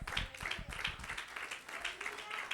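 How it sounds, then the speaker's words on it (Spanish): A church congregation claps together in a steady wash of applause, with voices carrying through it. "dale un aplauso a Cristo"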